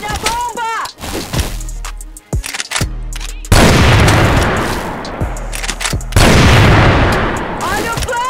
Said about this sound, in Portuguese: Olha a bomba!